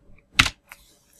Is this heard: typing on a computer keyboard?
yes